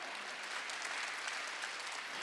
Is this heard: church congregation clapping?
yes